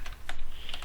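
Quick, crisp keystrokes on a computer keyboard as a command is typed at a Windows command prompt, several close clicks in a brief burst with no talking.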